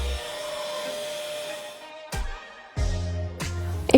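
A SCIJOY cordless handheld vacuum cleaner runs with a steady whirring hum, cutting out briefly and then restarting twice in quick bursts, loud and close with no talk.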